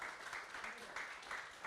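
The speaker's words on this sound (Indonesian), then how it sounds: "Tepuk tangan dong" A seminar audience applauds briefly, a short burst of fairly faint, spread-out clapping from a crowd heard in a room.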